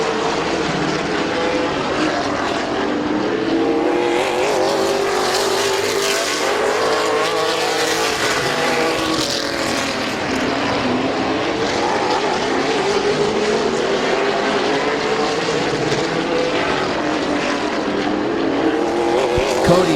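Race cars roar through a heat race at Midvale Speedway, a dense, continuous engine drone holding steady and loud for the whole stretch with no pauses.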